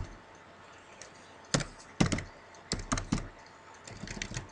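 Keys clack on a computer keyboard during data entry in SPSS, in short irregular bursts of close, distinct taps with pauses between them.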